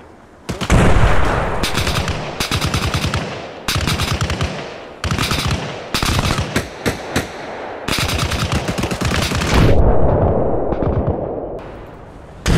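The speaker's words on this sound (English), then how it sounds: "Grenades being launched from the north." Arma Reforger gunfight with sustained loud bursts of automatic fire and heavy thumping launches echoing nearby. Crackling volleys repeat in long runs with short gaps, then a rumbling tail and another burst at the end.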